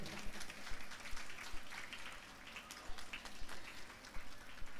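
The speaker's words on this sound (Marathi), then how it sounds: "सगळ्यांनी तिचं टाळ्या वाजवून स्वागत करा" An audience clapping to welcome the chairperson at a community Mangalagaur puja gathering, a faint, distant patter of hands holding steady throughout with no voices.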